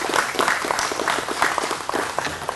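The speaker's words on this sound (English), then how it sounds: "Jennifer needs a big round of applause too." An audience at a fire station dedication ceremony claps steadily, a moderate wash of many hands with some individual claps standing out, continuing without talk throughout.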